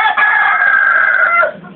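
A rooster crows loudly and close by in one long, sustained call lasting over a second, then trails off.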